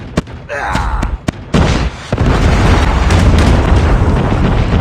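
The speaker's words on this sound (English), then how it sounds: "Hostile predator missile inbound." In Call of Duty Mobile, a predator missile strikes with a heavy booming explosion after a few sharp in-game hits and clicks, followed by a loud, sustained rumbling roar of debris.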